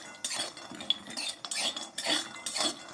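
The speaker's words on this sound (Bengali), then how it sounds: "আমি এখন কাজু বাদামটা এর মধ্যে দিয়ে দিচ্ছি কাজু বাদামটা দিয়ে একটু ভেজে নিলেই হয়ে যাবে" Cashew nuts are stirred while frying in a pan, with soft close scraping of a spoon against metal repeating every half second or so, and a light clink now and then.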